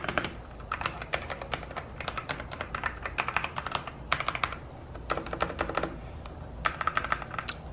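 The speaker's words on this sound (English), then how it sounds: "I had been wanting what I can only describe as a clicky clacky keyboard for a while" Fast typing on a new clicky mechanical computer keyboard, close and crisp, with bursts of rapid keystrokes separated by short pauses and no voices.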